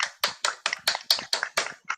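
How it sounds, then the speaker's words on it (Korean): Sparse hand claps from a few participants in a Zoom lecture at a theological seminary's continuing education program, about nine distinct claps in an irregular steady rhythm, close and fairly loud with no talk. "우리 다시 한번 감사의 표현으로 박수 한번"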